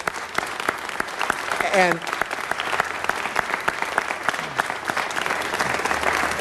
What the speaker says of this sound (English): Let's give him a round of applause for that amazing finish.